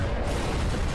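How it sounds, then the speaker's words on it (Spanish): Explosions in Skibidi Toilet episode 57: a dense, continuous roar of booming blast noise, loud and close, filling the whole second with no talk. "Buenas explosiones, bro"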